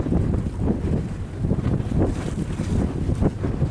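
A container cargo ship under way on a river churns up a steady, broad roar of water and wake, with wind buffeting over it and no voices.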